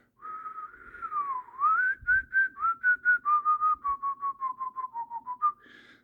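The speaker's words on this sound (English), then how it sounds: "That's the whistling sound." A person whistles a short melody alone, starting with a long sliding tone and moving into a quick series of repeated pulsed notes.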